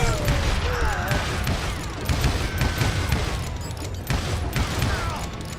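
Dense, near gunfire fills a shootout in the Wild West video game Call of Juarez: Gunslinger, with rapid overlapping shots, booms and clattering mechanisms running unbroken under game music and voices.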